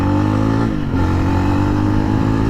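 A 2024 Yezdi Roadster motorcycle pulls hard in sixth gear toward top speed, its engine a loud, steady drone with rising harmonics and a brief dip before climbing again, heard up close with wind rush and no talking.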